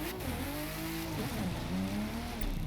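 A sports car engine in the video game The Crew 2 revs and climbs through gears during a street race, a loud steady roar with rising and falling pitch, close and continuous.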